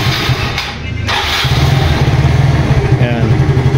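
A motorcycle engine cranks and catches, then settles into a steady, pulsing idle, loud and close, with a voice briefly heard.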